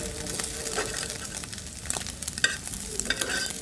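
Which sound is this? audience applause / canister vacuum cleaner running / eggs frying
eggs frying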